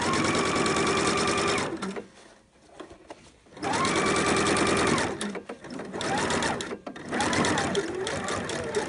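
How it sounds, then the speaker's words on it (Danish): A home sewing machine stitches a shirt collar in bursts of fast, rattling whirring, stopping and restarting three times with quiet pauses between runs. "inden vi kommer herhen med symaskinen."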